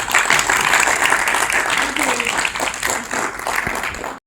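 Steady, dense applause rises from a crowd honouring children at a financial literacy camp, with a voice speaking over the clapping.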